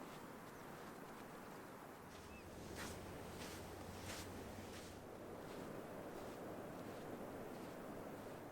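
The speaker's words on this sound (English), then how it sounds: "you can hear the tides changing" Waves and tide washing steadily onto a coastal beach, a continuous broad surf roar with brief swells of louder breaking water, mixed with some wind rush, no talking.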